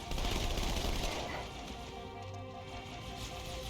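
A submachine gun fires in Halo as a loud, dense burst of rapid shots that fades into a steadier, quieter rattle of noise, with no voices present.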